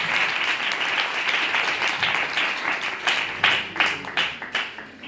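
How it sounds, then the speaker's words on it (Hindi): Audience applause at a Good Friday church meeting, dense clapping from a crowd that swells and then breaks into louder, scattered bursts toward the end. "उन 6 बेटे बेटियों के लिए, भाइयों के लिए ज़ोरदार तालियां बजाएं"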